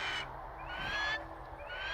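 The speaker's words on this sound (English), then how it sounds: "Bird." Bird calling high above the clouds in The Falconeer, with a few short, shrill squawking cries in quick succession, fairly close and alone with no talk.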